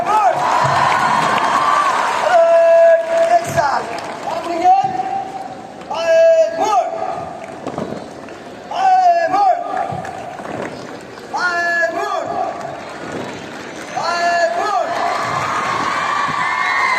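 A crowd at a high school sports opening ceremony cheers and shouts in bursts, with whoops and excited voices rising and falling, loud and close throughout.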